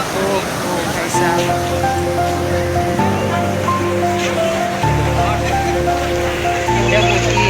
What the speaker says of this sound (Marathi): लाटा दाखवून मला लाटा किती येत आहेत या.